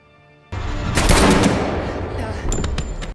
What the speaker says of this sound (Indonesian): Kemudian mereka saling beradu cepat tembak.